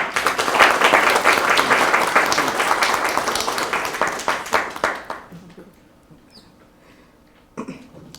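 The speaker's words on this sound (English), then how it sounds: "Let us come together and applaud Julie for her exceptional performance" An audience at a community meeting applauds an employee, dense clapping that thins into scattered claps and fades, followed by a cough and a few voices in the quieter room.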